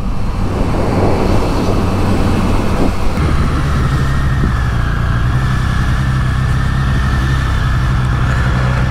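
A new 2023 Triumph Street Triple 765 RS idling with its idle set high and a slightly sticky throttle, a loud, steady, close engine hum with a brief rise in revs early on.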